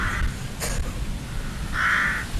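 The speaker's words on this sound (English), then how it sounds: "We've got some jackdaws over there now." Jackdaws call outdoors from a short distance, giving two harsh, clipped caws about two seconds apart over steady background noise, the second call longer and louder.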